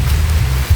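Heavy rain pouring down outdoors, a loud, steady, dense wash of drops that continues throughout with no gaps and no voices.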